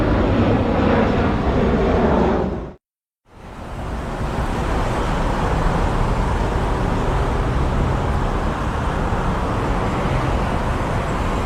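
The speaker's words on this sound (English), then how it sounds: "Planes and trains and everything going over at the same time." Loud, steady roar of planes and trains passing overhead at once, briefly cutting out to silence before the broad rumble resumes and continues.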